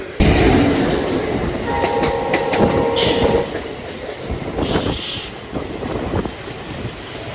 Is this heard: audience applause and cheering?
no